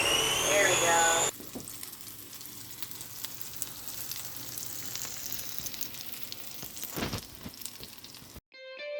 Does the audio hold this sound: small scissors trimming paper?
no